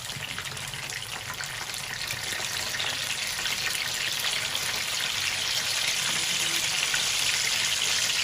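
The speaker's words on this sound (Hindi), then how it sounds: "3 मिनट हो गए हमें कबाब फ्राई करते हुए एक साइड से" Peshawari chapli kebabs frying in hot oil give a steady, dense sizzle and crackle that holds unbroken and close for the whole stretch, with no voices over it.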